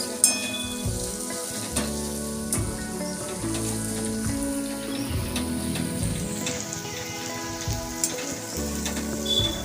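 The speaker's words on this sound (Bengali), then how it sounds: "আমার একদম ঝুড়ি ভাজার মতো আলুটা ভাজা হয়ে গেছে" Bengali-style shoestring potatoes fry in hot oil in a wok, giving a loud, continuous crackling sizzle with scattered pops. Soft music plays underneath throughout.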